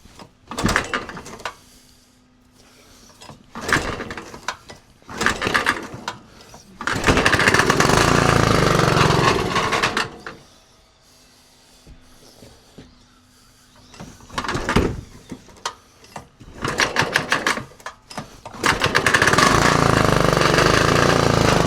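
A Kubota push mower engine sputters and catches in repeated short bursts after a shot of carb cleaner, several loud pull-and-run attempts separated by quieter gaps with handling clatter.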